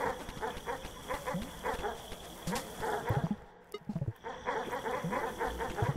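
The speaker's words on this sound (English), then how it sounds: "These dogs are distracting the hell out of me." Repeated bursts of dog barking from the video game Animal Well, several dogs yapping in quick rhythmic clusters, with a short quiet gap midway.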